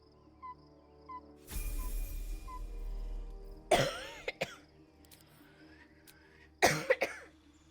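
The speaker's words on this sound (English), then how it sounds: "Cough." A person coughs and clears the throat, two short rough bursts near the end after a low steady hum, close and fairly quiet, with no speech.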